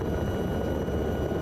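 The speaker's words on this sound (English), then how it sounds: "Push this helicopter to the limit." A Lama helicopter's engine and rotor in a flight simulator game, flown over north-west Ireland, holds a steady, loud, dense drone with no breaks and no voices.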